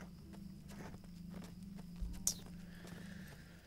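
Hooves of a ridden horse in The Lord of the Rings Online clopping at a steady, light pace, fairly faint and low over a constant background hum, with a brief sharper sound midway.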